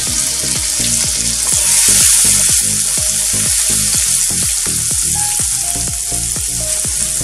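Curry leaves crackle and sizzle in hot oil for Mumbai vada pav filling, a loud, close, steady frying hiss with quick popping spatters and stirring taps throughout.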